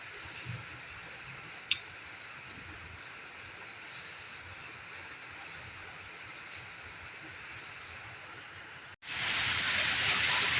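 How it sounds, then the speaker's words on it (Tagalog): Rain falling in a village, a steady soft hiss of drops continuing evenly, with a brief tick near the start and a sudden louder burst of rain noise at the end. "It's raining because this is good for our corn."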